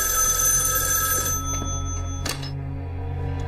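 A telephone rings indoors in a Chinese spy drama scene, a continuous close electronic ringing that drops off about two-thirds through, with no speech.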